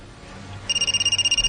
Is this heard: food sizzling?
no